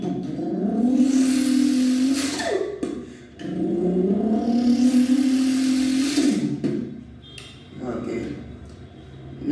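A voice imitates a Subaru car with the mouth, producing two long buzzing engine drones that rise in pitch like revving through gears, followed by a shorter fading burst.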